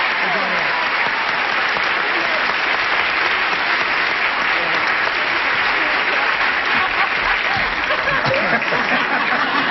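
Brisk studio audience applause on the set of a 1974 CBS daytime game show, a steady dense wash of clapping filling the whole stretch at full level.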